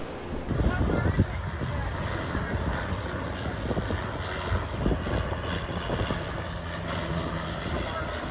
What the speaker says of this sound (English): Another seaplane getting ready to take off there.